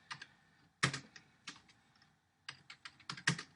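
Code being typed on a computer keyboard, close crisp key clicks in short irregular bursts separated by brief pauses, quiet and without talk.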